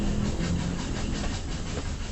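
A fast train rushing through the night, a steady dense rumble and rattle of railway cars running continuously at close range with no voices.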